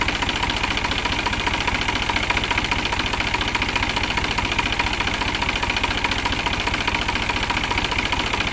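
A New Holland tractor engine runs at a steady idle with a dense, even rumble and rattle, close and continuous with no break, carrying a slight knocking vibration throughout.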